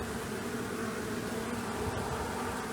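Honey bees buzzing inside a brick chimney chamber, a steady, dense drone that holds evenly throughout, moderately close with no talk over it.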